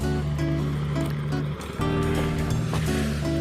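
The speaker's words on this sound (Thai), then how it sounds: "น้ำพวกนี้เป็นน้ำที่ไหลลงมาจากฝายข้างบนภูเขาโน่น" Water running down from a mountain weir into rice fields gives a steady, full rushing wash with a constant tonal hum, continuous and close throughout.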